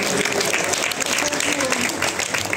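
Audience applause at a Shrimad Bhagwat Katha gathering at Shri Shyam Mandir, Todapur, as a dense, steady burst of clapping from a crowd, close and continuous.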